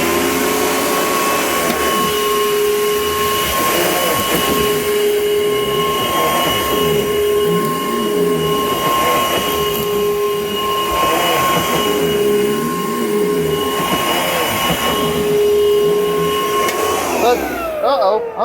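A 2004 Panasonic upright vacuum cleaner runs steadily and loudly up close, a constant whine with pulsing undertones for about seventeen seconds before it cuts off abruptly at the end.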